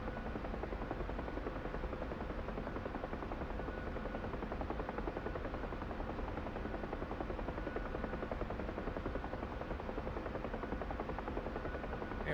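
A Huey helicopter in DCS World flies low over jungle, giving a steady, unbroken drone of rotor and turbine at constant loudness for the whole stretch, with no voices.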